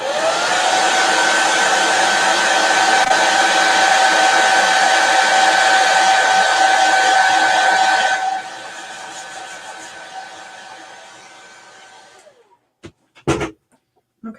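Hair dryer blowing to dry paint on a Mylar stencil, a loud steady whirring hiss for about eight seconds, then dropping to a lower, weaker setting before shutting off, followed by a few brief handling knocks.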